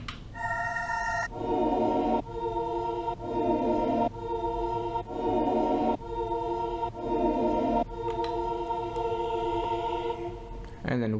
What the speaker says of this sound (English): So the choir with no effects on sounds like this.